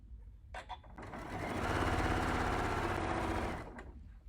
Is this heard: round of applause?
no